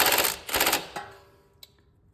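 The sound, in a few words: impact gun removing strut bolt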